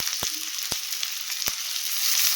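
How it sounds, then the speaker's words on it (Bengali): Onion pieces fry in oil with garam masala for a fish tikka, a close steady sizzle with three sharp spoon knocks against the pan and no talking. "গরম মশলাটা ভালো করে তেলে একটু ভেজে নিয়ে তারপরে পেঁয়াজের টুকরোগুলো কেটে রাখা কুচি"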